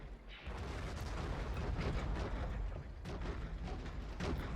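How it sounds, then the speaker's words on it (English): Explosions rumble through a Star Wars battle of clone troopers against droids on Naboo, a dense, continuous roar of blasts and booms with sharper bursts near the end. "There goes another explosion."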